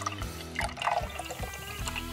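Cola poured as a dressing over a salad of candy, chips and snacks in a kitchen, giving about two seconds of gurgling, splashing liquid over background music.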